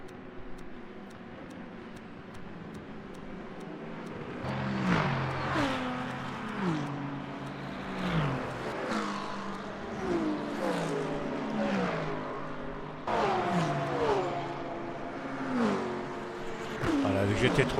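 GT3 race cars lapping the Le Mans circuit in the sim racing game Le Mans Ultimate, engines rising and falling through gear shifts with repeated upshift sweeps, loud and close throughout, under someone talking.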